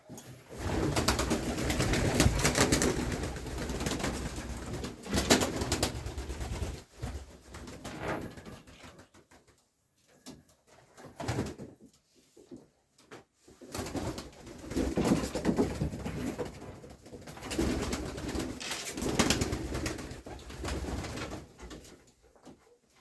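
Pigeons coo in dense, overlapping murmurs nearby in a new dovecote, with a brief quieter lull midway before the throaty cooing swells again.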